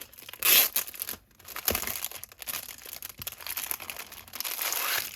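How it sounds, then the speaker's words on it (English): Plastic packaging crinkles and crackles around a Yuruliku flat pen case during unboxing, a close, steady run of rustling with a louder burst near the start and brief pauses between handlings. "You're going to hear some crinkling."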